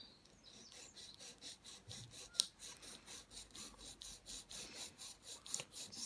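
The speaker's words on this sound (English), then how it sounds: "Just filing up and down" A nail file rasps up and down against a gel nail in quick, even back-and-forth strokes, close and soft with no talking.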